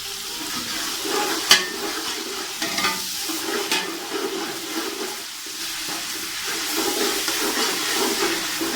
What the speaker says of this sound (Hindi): इन तमाम चीज़ों को अच्छे से मैं फ्राई कर लूँगा।